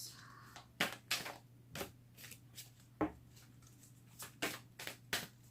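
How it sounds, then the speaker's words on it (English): Tarot cards being shuffled by hand in a series of crisp riffling bursts and soft slaps, close and fairly quiet, with no talking. "Okay, so I'm going to shuffle the deck"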